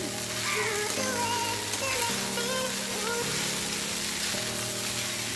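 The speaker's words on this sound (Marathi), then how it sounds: "पूर्ण पोहे तेवढं पूर्ण मिक्स व्हायला हवं. व्यवस्थितपणे परतून घ्यायचं." Kande pohe sautéing and being stirred in a pan on the stove, a soft, continuous sizzle with faint stirring, heard under tonal background music.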